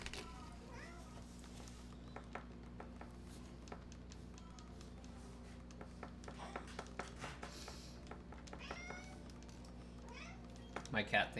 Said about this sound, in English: My cat thinks it's dinner time.